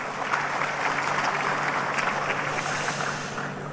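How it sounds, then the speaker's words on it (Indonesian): An audience at a formal business gathering gives sustained applause, a thick, continuous patter of many hands that fades slightly toward the end. "Tepuk tangan dong buat kita semua"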